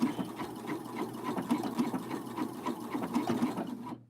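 Sewing machine running continuously while stitching a pant hem, a close, steady rapid whirring hum with faint rhythmic ticking, stopping abruptly at the end.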